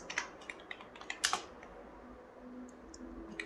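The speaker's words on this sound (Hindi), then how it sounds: "मैं यहाँ से लिखता हूँ राकेश" Keys clicking on a computer keyboard while a name is typed into an MS Excel spreadsheet, a quick burst of close, light taps followed by quieter scattered clicks over a soft background hum.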